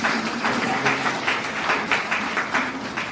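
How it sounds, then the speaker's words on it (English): An audience at a law lecture applauds a guest, a dense, even patter of many hands clapping with a light rhythmic pulse, moderately loud and without speech. "Let us give a big clap to"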